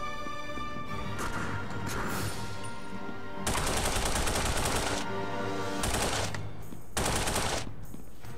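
Gunfire in the action video game The Punisher: loud, heavy bursts of automatic game gunfire in several blocks, with crashes and impacts between them over a steady game soundtrack.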